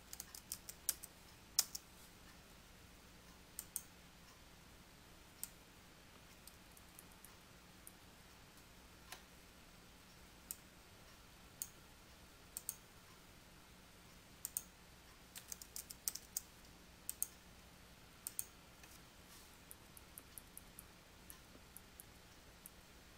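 Soft, sparse keystrokes on a computer keyboard while custom header text is typed in Publisher, with irregular single clicks and small clusters of taps over a quiet background.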